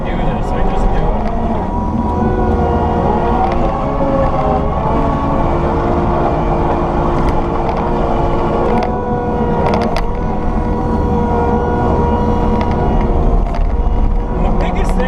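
A compact track loader skid steer with a Harley rake attachment runs with a loud, steady engine drone and hydraulic whine, with occasional clanks from the rake. Someone talks over it.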